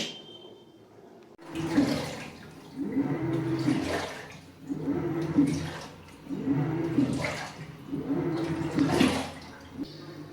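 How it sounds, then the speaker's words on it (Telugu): Water gushes in repeated surges, about five rushing pulses separated by brief lulls, as a Samsung 9 kg Eco Bubble washing machine fills with water, with a faint hum. "మళ్ళీ వాటర్ అయితే తీసుకుంటుంది ఇంకోసారి"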